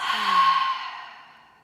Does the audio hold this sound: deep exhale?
yes